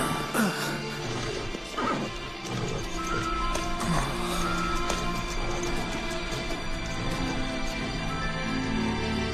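A horse neighs amid clattering hooves and crashing impacts, loud and dense throughout, with no speech.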